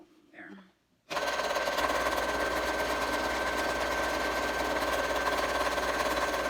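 A sewing machine stitches a fabric mask, starting abruptly after a brief moment of quiet handling and then running steadily and loudly, a close, even mechanical whirr that continues to the end.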